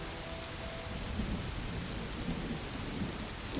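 Steady, fairly heavy rain falls outdoors around a wood-fired oven, a dense continuous hiss of drops on surfaces, close and unbroken, with no voices.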